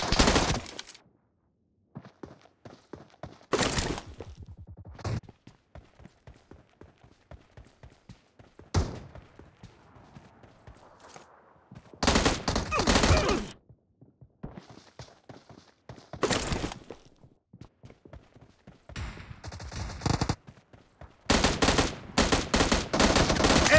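Video game gunfire comes in repeated rapid bursts like machine-gun fire, loud and close, separated by short quiet gaps and scattered single shots.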